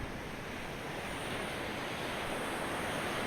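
Steady sea surf washing onto a beach in Tenerife, a continuous broadband roar with some wind noise on the microphone, fairly loud and unbroken with no voices.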